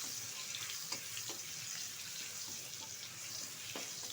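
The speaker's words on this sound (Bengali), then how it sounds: "তেলটা গরম হয়ে যাওয়ার পর দিয়ে দিলাম থেতো করে রাখা কিছুটা রসুন।" Crushed garlic frying in hot oil in a pan, a steady close hiss and sizzle with a few soft stirring knocks.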